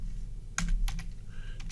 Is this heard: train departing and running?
no